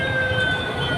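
A fire truck siren wails steadily at a building fire at Landers, its tone loud and sustained over low traffic rumble.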